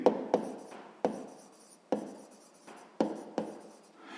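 Pen writing numbers by hand on paper, a series of short scratchy strokes in uneven bursts, close and quiet with no talk.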